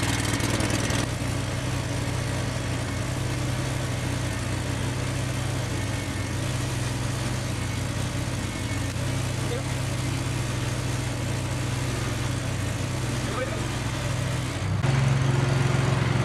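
A Lincoln Ranger engine-driven welder runs steadily at a close, constant idle, with a low droning hum throughout and a slight shift in pitch near the end.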